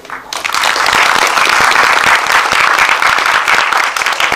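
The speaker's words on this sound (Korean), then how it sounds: "큰 박수 부탁드립니다" A film screening audience bursts into loud, sustained applause, a dense wash of clapping that stays full and steady throughout, with no talking over it.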